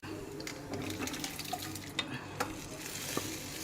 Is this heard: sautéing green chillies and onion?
yes